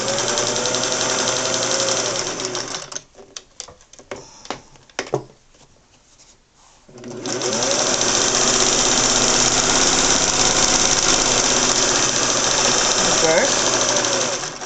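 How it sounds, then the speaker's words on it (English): Singer 401A vintage sewing machine stitching, a loud, steady motor whir with rapid needle clatter, breaking into a few stop-start bursts and clicks before running continuously again up close. "So I'm going to do a few stitches on it. Let's see how well it sews."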